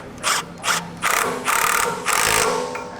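A ratchet tightens an 18 mm nut and bolt while fitting a 1.75-inch lift kit on a 2022 Chevy Trail Boss, heard as several close bursts of quick clicking strokes, the later ones longer and more sustained.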